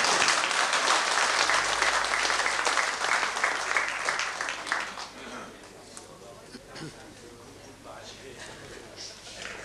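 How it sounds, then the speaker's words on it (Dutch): An audience applauds at a 1991 municipal ceremony in Gulpen honouring an alderman's silver jubilees. The clapping is loud and dense at first, then thins and fades after about five seconds into a quieter hall with scattered claps. "Ik dank u zeer voor uw applaus."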